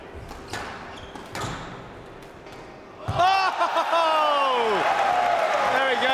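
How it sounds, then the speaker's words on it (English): A large crowd at a professional squash tournament erupts into a loud, sustained roar with cheering and whistles after a few seconds of quieter court sounds and ball thuds, while a commentator talks. "that's the biggest roar we've heard all day from the crowd"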